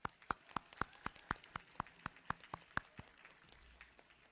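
Sparse, distant hand clapping from an audience at a high school senior awards ceremony, about a dozen evenly spaced claps that thin out and fade toward the end.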